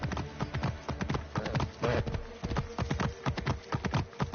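Steady, rhythmic clip-clop of horse hooves trotting on a hard surface in the video game Assassin's Creed Origins, loud and continuous, with faint background ambience.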